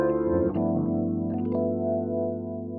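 A Viscount Legend '70 stage piano plays a Rhodes electric piano sound through a rotary speaker effect, with sustained chords swirling and wavering as the simulated rotor spins, loud and close, with no voices.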